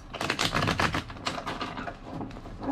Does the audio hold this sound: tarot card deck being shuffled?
yes